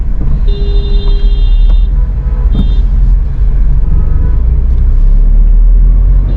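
A car drives along a road, its loud, steady engine and tyre rumble filling the cabin continuously, with faint high tones and brief clicks over the drone.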